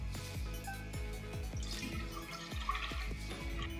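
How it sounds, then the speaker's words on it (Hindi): Full fat fresh milk, one litre, pours into a pan with a rhythmic glugging, repeated rapid gulps from the container as the liquid flows, close and steady throughout. "अब इसमें हम full fat fresh milk 1 litre शामिल करेंगे।"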